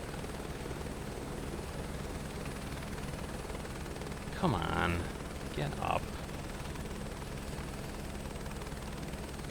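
A helicopter in the game Microsoft Flight Simulator 2024, flown on an oil rig mission, gives off a steady, even rotor and engine drone throughout. A voice speaks briefly over it midway.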